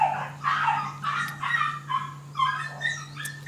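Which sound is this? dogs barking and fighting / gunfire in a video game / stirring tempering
dogs barking and fighting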